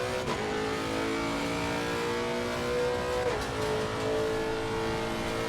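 A race car engine drones steadily while lapping the Nordschleife in Assetto Corsa Competizione, loud and continuous, with brief pitch dips at gear shifts before climbing again.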